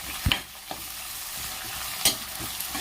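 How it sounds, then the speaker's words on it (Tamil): Tomatoes and green chillies sauté in hot oil in a pan for fish curry, a steady close sizzle broken by a few sharp scrapes and clatters as the spoon stirs. "இப்போ தக்காளி போட்டு வணக்கிக்கலாங்க"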